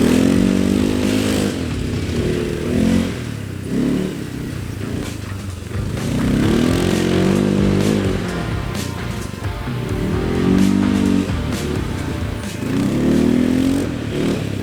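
An ATV engine idling and revving in repeated swells, a loud close throaty drone rising and falling about every four seconds.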